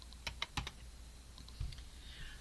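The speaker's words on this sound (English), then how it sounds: "first you go to Google and just type KDP" Computer keyboard typing in a few quick bursts of close, crisp key clicks with pauses between, in a quiet room, no voices.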